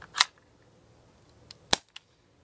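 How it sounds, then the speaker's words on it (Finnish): A Baby Desert Eagle CO2 air pistol fires two sharp, loud shots about a second and a half apart, each a crisp snap with small clicks after, in otherwise quiet surroundings. "Laitetaan sisään ja koitetaan ampua."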